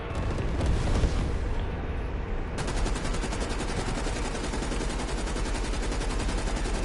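Dense, continuous automatic gunfire in the Call of Duty Cold War multiplayer game, with rapid repeated shots and heavy booming that run without a break across the whole stretch and stay loud throughout.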